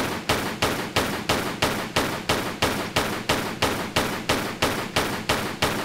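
Rapid, evenly spaced gunfire from shooting an enemy in Tomb Raider III, about fourteen sharp, loud shots in a steady rhythm with no voices over them.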